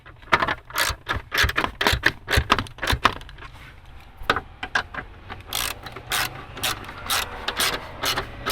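A hand ratchet clicks in quick, uneven bursts while tightening 10mm bolts on a 1999–2004 Jeep Grand Cherokee, close and crisp, with short pauses between runs of rapid pawl clicks.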